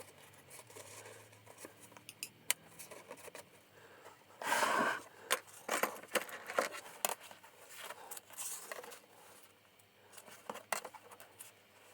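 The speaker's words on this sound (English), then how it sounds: "Now I'm going to cut 4 pieces that correspond to the gaps between the tapes and to the head and tail." Scissors snip through material pieces for a 19th-century-style half leather library book binding, cut to fill the gaps between the tapes and at head and tail; a cluster of brief close cuts and rustles against a quiet background, no talk.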